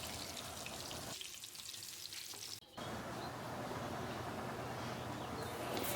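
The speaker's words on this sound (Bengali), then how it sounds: "বাদবাকি যে মাছগুলো আছে সেগুলোও আমি একইভাবে ভেজে নেব।" Pieces of bata fish fry in oil in a pan, a continuous soft sizzle that dips briefly in the middle before resuming, fairly quiet and with no one speaking.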